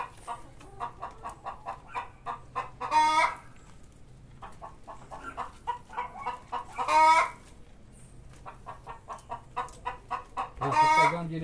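Chickens on the ground give rhythmic, repeated clucks, broken by three louder, drawn-out calls spaced a few seconds apart. The birds are close and clear.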